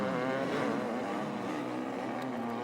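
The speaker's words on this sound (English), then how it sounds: "Darrell King, number 6, just gone through on the Kawasaki." A Kawasaki motocross bike in a 500cc Grand Prix at Hawkstone, England, roars past with a steady, loud, raspy engine note that holds throughout, with no voices.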